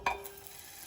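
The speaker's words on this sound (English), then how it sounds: "You can see it's sizzling up rather quick." Butter melting in a pan over medium heat gives a brief loud sizzle at the start, then settles into a faint steady hiss, with no voices.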